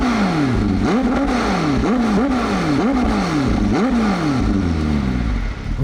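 McLaren 765LT Spider engine revving hard through its centrally mounted quad exhaust, about six sharp rising blips in quick succession, loud and close, ending as the last rev drops away.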